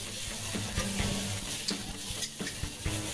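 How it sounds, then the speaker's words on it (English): Fried rice with soy sauce sizzling in a pan as it reduces, a steady close hiss with scraping stirs and occasional clinks throughout. "And straight away you hear it sizzle as your sauce reduces and intensifies."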